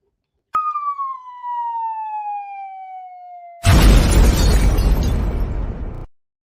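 A bomb-drop sound effect: a sharp onset gives way to a long descending whistle-like siren tone, then a loud, roaring explosion takes over and rumbles for a couple of seconds before cutting off.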